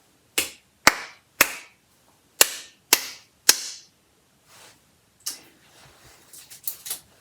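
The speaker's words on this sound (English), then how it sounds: "I'm just going to clap the whole rhythm again" Six sharp hand claps in an uneven rhythm during a trumpet lesson, close and loud, then softer scattered claps and taps trailing after a short pause.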